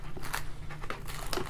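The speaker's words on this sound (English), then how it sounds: "I'm just gonna take a little plastic wrap here and we're just gonna bunch it all together." Plastic cling wrap crinkles and crackles in quick irregular bursts as it is bunched together by hand, close to the microphone, over a low steady hum.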